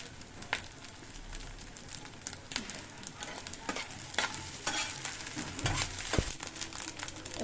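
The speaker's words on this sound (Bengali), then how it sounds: "মাছের ডিমগুলো ভাজা হয়ে গেছে।" Fish roe fries in a pan with a soft, continuous sizzle broken by scattered crackles and scraping stirs, quiet and close.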